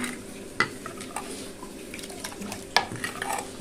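A ladle stirs boiling homemade oil-free rasam in a pot, giving a few scraping knocks against the metal over a soft bubbling background, close by and without speech.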